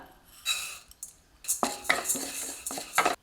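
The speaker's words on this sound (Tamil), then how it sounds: "கால் கப் அளவுக்கு பாசிப்பருப்பு எடுத்துருக்குங்க இது லேசாக செவந்து வர அளவுக்கு வெறும் கடாயில் வறுத்து" Metal spoon scraping and clinking in a dry kadai as moong dal is roasted and stirred, irregular close scrapes and taps in short bursts with quiet gaps between.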